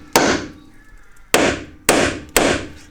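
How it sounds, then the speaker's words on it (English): Four sharp metallic hammer blows on rusty tow bar fasteners of a Volvo V50, one then three more in quicker succession, each ringing briefly, loud and close with no voices. "I'll give them a bit of livening up with a hammer."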